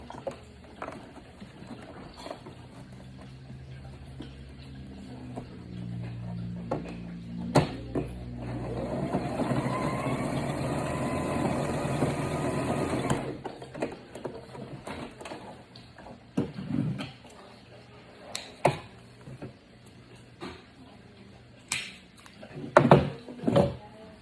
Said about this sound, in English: Go ahead and sew this one